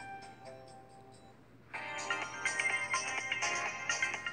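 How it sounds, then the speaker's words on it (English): Ringtone on a Samsung S7 phone, a quiet run of short repeated tones that turns into a fuller, busier melody partway through and keeps playing steadily. "This ringtone's on this phone that I'm recording on."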